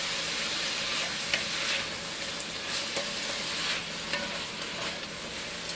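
Rinsed canned beans stirred in a sizzling cooking pan, a steady close frying hiss with soft scraping strokes of the spoon and no voices.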